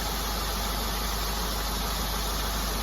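A steady, even car engine hum idles without change during a cylinder power balance test, a faint continuous drone under broadband hiss.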